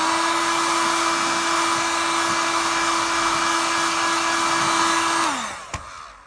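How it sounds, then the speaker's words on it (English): A handheld hair dryer blows steadily on a car tyre, a loud constant whine and rush of air that holds for about five seconds, then winds down and cuts off, followed by a faint knock. "just a hairdryer, and as you see, a couple of seconds on there"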